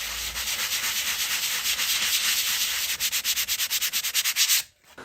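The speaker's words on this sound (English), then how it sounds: "An orbital sander like this one has a small stroke, so it isn't aggressive" Steady abrasive whir of an orbital sander on wood, close and continuous, turning into a pulsing rhythm near the end before stopping abruptly.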